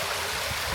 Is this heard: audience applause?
no